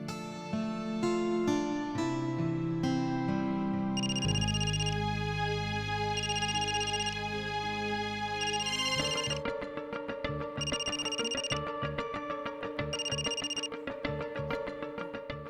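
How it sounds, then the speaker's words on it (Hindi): A telephone rings with a melodic electronic tone that loops through several repeating phrases, loud and clear for about fifteen seconds with no talking. "एक काम करते हैं, दीना को फोन करते हैं"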